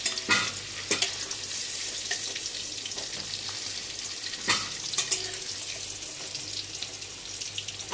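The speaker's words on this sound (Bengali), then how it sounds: "ওই তেলের মধ্যে গোটা গরম মশলা দিয়ে দেবো।" Whole garam masala spices sizzle in hot oil in a pan after potato and papaya were fried, a steady broadband hiss with a few sharp spits and crackles, fairly close and with no talking.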